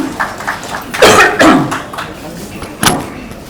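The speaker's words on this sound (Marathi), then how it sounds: "थोडासा खोकला आहे तो सांभाळून घ्या जरा." A man giving a public political speech coughs a few times into a microphone, with short harsh bursts carried through a reverberant hall amid background crowd noise.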